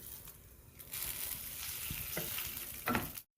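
Whole garam masala hits hot oil for chicken kolhapuri, a bright rushing sizzle that swells after a quiet start, with a couple of stirring knocks before cutting off abruptly.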